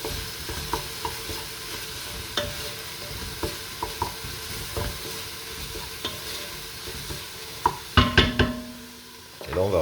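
Onions for soupe au pistou sauté in a pot, with a steady close sizzle broken by scraping stirs of a spoon, louder clattering stirs near the end.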